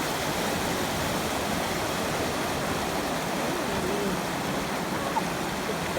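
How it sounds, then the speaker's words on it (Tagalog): Waterfall at the entrance of the falls, a steady broadband rushing of falling water that is moderately loud and unbroken, with no voices heard. "dito na po tayo sa bukana ng falls"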